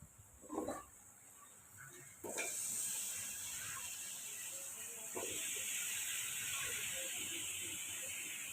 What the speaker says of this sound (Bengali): এরপর খাসির মাংস ধুয়ে রাখা সেগুলো কড়ার মধ্যে দিয়ে দিতে হবে।